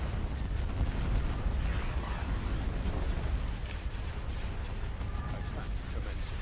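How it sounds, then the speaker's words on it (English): Concussion missiles detonating in a Star Wars Empire at War space battle between First Order and Resistance fleets, a constant rumbling roar of overlapping explosions with scattered pops, someone talking over it. "Look at that, there's concussion missiles everywhere"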